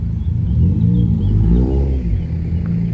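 A Mercedes-AMG G-Class drives past at Monte Carlo Beach in Monaco, its engine a loud, deep rumble whose note climbs and falls as it goes by.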